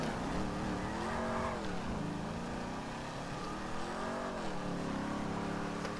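The Vapid Dominator GTX muscle car in Grand Theft Auto 5 revs its engine loudly and steadily, with the pitch swelling and dipping through a few throttle pulls and no voices over it.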